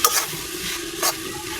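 Sun-dried, boiled and pounded beef shutki is stir-fried in spice masala, a continuous close sizzle broken by a couple of sharp scraping stirs of the spatula in the pan.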